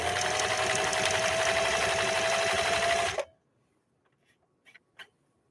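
A vintage 1960 sewing machine stitches a zigzag at a steady, fast mechanical clatter for about three seconds, then stops abruptly, leaving near silence and a few faint clicks.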